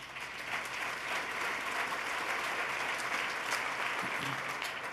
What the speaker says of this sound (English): you should applaud for that